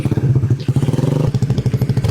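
Motorcycle with an aftermarket exhaust, loud and close, its engine popping in rapid rhythmic pulses that rise in pace as it revs.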